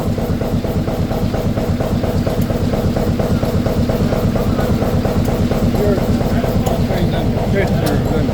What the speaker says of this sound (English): That's steam engine.